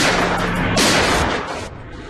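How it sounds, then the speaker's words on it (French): Two sharp, loud gunshot blasts in quick succession, each with a harsh crack followed by a short echoing decay. "Chappell sort son arme et tire 2 coups de feu."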